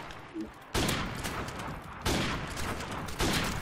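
Three bursts of rapid automatic gunfire from the video game Modern Warfare Remastered, each a loud, sustained spray of shots, separated by brief lulls with a faint voice murmuring underneath.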